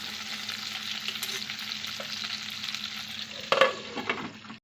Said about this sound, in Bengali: এই যে পেঁপে আর আলুটা দিয়ে দেবো এখন একটু ভালো করে নেড়ে ঢাকা দিয়ে দেবো